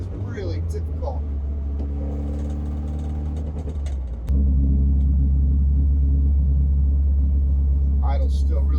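Saab Sonett four-speed car driven from inside the cabin, its engine droning loudly before a gear shift brings a deeper, steadier roar; a voice speaks briefly over the engine.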